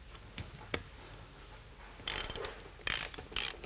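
A hand ratchet drives a screw home, giving bursts of quick clicking pawl ratchet sounds in short strokes after a quiet start, fairly close and with no talk over it.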